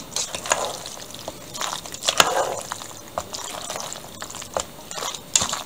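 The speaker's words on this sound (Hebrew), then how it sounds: "נערבב היטב, שביצים יטמעו לנו היטב באופן אחיד." A spoon stirs beaten eggs through a pasta and cheese mixture in a bowl, making wet, squelching, sloshing sounds in irregular strokes, close and moderately loud, with no voices.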